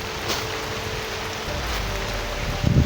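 Steady rain falls in a video game, a dense, even hiss of drops on surfaces that runs through the whole stretch, with a brief thicker patter near the end and no voices.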